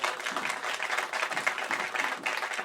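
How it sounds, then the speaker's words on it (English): An audience applauds panelists after an evening panel discussion on legacy restaurants, a dense, continuous wash of clapping held at an even level from start to finish. "Can we get a round of applause for our panelists?"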